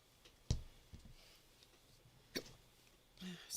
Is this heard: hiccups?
yes